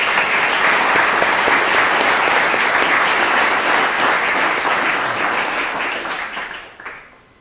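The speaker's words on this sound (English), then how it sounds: "So please give them a round of applause." Audience at a community vehicle giveaway event hosted by a Louisville auto dealer claps loudly and continuously, a full room of applause that holds steady and then tapers off near the end.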